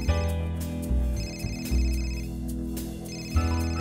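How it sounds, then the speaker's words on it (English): A cell phone rings in Avenue Flo, a steady electronic tone repeating over a continuous game music bed, with a brief pause between bursts and no talking. "Oh, that's my cell phone."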